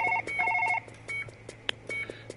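Telephone ringing in the video game Surgeon Simulator, short repeated electronic tone bursts in a rhythmic pattern, clear and close, with a few faint clicks between.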